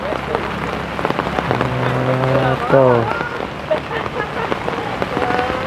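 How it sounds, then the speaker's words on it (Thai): Steady rain falls on a house-building site where holes have been dug for the posts, a constant patter under someone talking nearby. "ฝนดีๆล้อนี่ ทางนี้ก็เปียกไปเลยนี่พี่น้องเอ้ยเนาะ"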